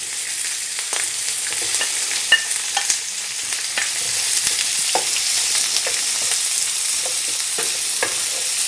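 Peppers and onion stir frying in a pan without a wok, giving a steady, loud sizzle with scattered sharp stirring scrapes and clicks throughout.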